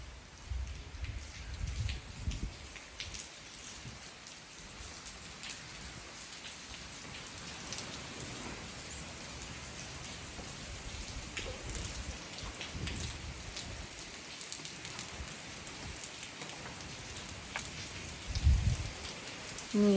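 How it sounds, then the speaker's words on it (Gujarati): Steady rain keeps falling after a windy night-long downpour, a dense even patter on surfaces close by with scattered heavier drips and a few soft low rumbles, no talking. "હજી પણ વરસાદ તો ચાલુ જ છે"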